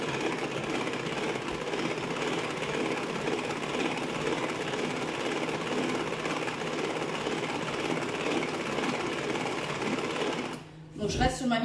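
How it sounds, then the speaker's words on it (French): A Speedy Chef electric mixer with whisks beats eggs and sugar at low speed, giving a steady close whirring drone that runs without a break until it stops and a voice begins speaking. "je pose les fouets de mon Speedy Chef et je vais mélanger jusque j'ai un volume qui double"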